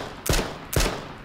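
Two sharp gunshots ring out about half a second apart in the survival video game ARK, loud close blasts with short decaying tails and no voices.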